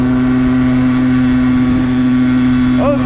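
Motorbike ridden along a back road toward town, restricted to about 32, a steady loud engine drone with a strong constant tone and wind rush, holding speed throughout without change.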